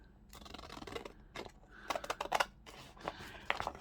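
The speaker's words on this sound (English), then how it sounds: "I'm going to cut around and be very careful not to cut into the envelope." Scissors snip through paper around an envelope in a run of short, crisp cuts with brief pauses between, close and fairly quiet.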